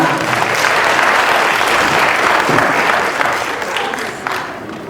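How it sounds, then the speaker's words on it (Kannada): Loud, dense audience applause for Vadiraj, a performer who has just played an instrument at a Rajyotsava celebration. The clapping stays full and continuous for about five seconds, then thins slightly toward the end, with no talking over it. "ಇನ್ನೊಂದು ಚಪ್ಪಾಳೆ ಅವ್ರಿಗೋಸ್ಕರ."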